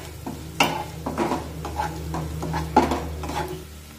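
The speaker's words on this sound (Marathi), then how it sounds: "आता यामध्ये कढीपत्त्याची पाने टाकूया, मिक्स करून घेऊया।" Curry leaves are tossed into softened onions for oats upma and stirred in a pan, with several close spoon scrapes and knocks over a low sizzle.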